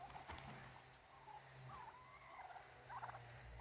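Domestic breed turkeys gobble and call in bursts at moderate distance over a low steady hum, with warbling calls overlapping through the clip.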